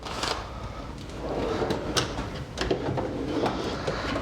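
A drawer on a large Husky and Matco tool box slides open or shut, a rolling metallic rumble with a few sharp clunks and rattles of the pliers stored inside, close up.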